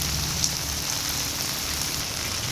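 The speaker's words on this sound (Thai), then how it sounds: "ฝนโตก แต่เวลาถ่ายในกล้องมันจะไม่เห็นสายฝนหรอกตกอะ่ะ" Steady rain falls at the Hat Yai railway junction, an even close hiss of drops on surfaces with a faint low rumble underneath and no talk.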